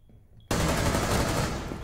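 A sudden, loud burst of rapid automatic gunfire in the video game Rainbow Six Siege, starting sharply after a quiet moment and running continuously to the end.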